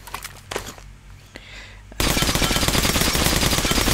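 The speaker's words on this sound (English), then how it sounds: "this is what happens when you have tessellation on max and you shoot the floor with shotgun shells" Rapid shotgun fire in Metro: Last Light, shells tearing into the floor in a dense, loud, continuous barrage after two seconds of quieter scattered clatter.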